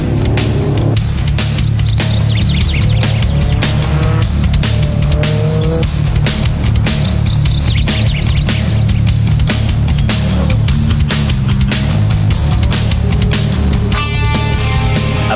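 A Ferrari F430 Scuderia driving a timed lap, its engine loud and close, revving hard through rising and falling gear changes with brief tire squeal near the end.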